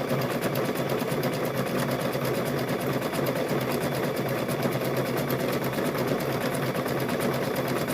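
Stitching around the edge of apron fabric, a sewing machine hums in one unbroken, fast, close run, steady and fairly loud.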